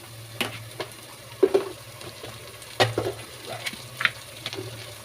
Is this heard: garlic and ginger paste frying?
yes